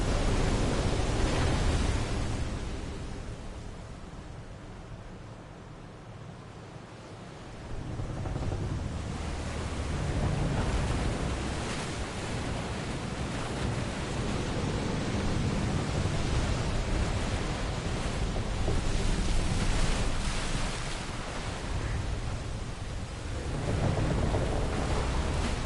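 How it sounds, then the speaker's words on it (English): In Final Fantasy 16, a waterfall crashes as a dense, steady rushing roar, loud and continuous, dipping briefly and swelling back, with no speech over it. "It's a waterfall now."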